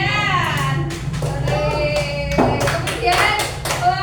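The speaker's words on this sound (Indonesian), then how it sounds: "Beri tepuk tangan buat Bian" Classroom applause for a pupil, children clapping in quick uneven bursts close by, mixed with children's voices talking and calling out over the claps.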